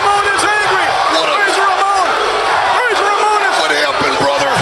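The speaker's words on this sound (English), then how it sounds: "And the reaction from the crowd, everyone on their feet" A wrestling arena crowd at a 1993 Raw match between Razor Ramon and The Kid roars and cheers continuously, a dense, loud wall of whoops and shouts with no break.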